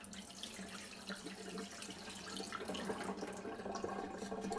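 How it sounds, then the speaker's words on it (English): Water is poured off soaking sprouting seeds in a jar, giving a steady splashing run into a sink for a few seconds that grows slightly louder toward the end. "and then pour the water off."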